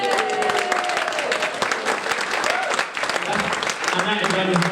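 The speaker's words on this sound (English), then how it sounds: "Round of applause for me, man." Wedding guests clap for the groom during his speech, a dense, steady round of applause with voices talking over it.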